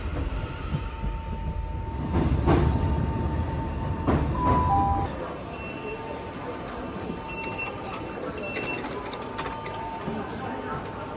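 A London Underground metro train rumbles loudly through a station, with rising clatter and squeal that fades to a steady hum as it pulls away.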